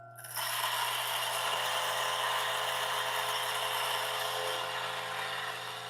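Turin DF83 coffee grinder with 83mm HU burrs, starting up and grinding beans continuously with a close, steady whirring rattle that holds level for several seconds.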